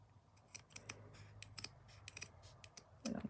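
Small scissors snip thread during cross stitch work on a hanging decoration, a series of sharp, quiet, close clicks spaced irregularly, with a brief handling rustle near the end.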